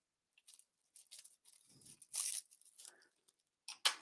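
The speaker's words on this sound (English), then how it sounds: "That does tear pretty easily. So tear off a piece of plastic wrap" Plastic wrap is torn by hand in several short, crisp rips and crinkles separated by pauses, with one louder tearing burst near the middle and another at the end, heard up close.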